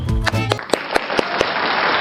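A short tonal burst opens, then a bright wash of applause follows, with crisp individual claps popping out at a regular pace above it until it cuts off abruptly.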